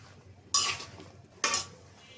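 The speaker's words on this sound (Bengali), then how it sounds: "নাড়াচাড়া দিয়ে দিলাম" A spoon scraping and stirring a curry of flat beans, eggplant, potato and radish in a pan, two distinct clattering strokes about a second apart over a quiet background.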